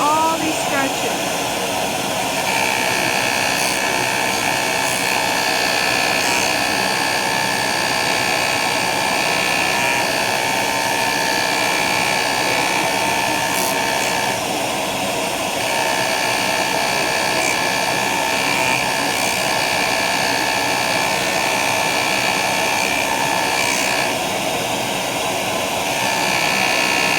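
A JOOLTOOL abrasive polishing tool works scratches and pits off a watch case, producing a continuous high-pitched whirring whine that holds steady for the whole stretch, with faint talk at times.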